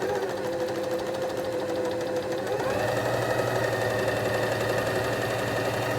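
A Bernette 334D serger overlocker runs steadily, its loud, even mechanical chatter shifting slightly in pitch partway through as stitching continues alone without a break.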